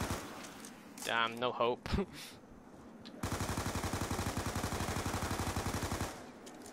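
Rapid automatic gunfire in the Black Ops 2 Zombies video game on the Town map: a steady, evenly spaced stream of shots runs for about three seconds after someone speaks briefly.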